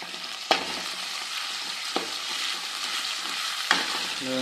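Green chillies sauté in a pan for a spicy Tamil goat intestine fry, giving an even, close sizzling hiss with three sharp spatula taps spaced through it.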